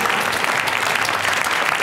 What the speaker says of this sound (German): Bitte einen herzlichen Applaus für Moses Pelham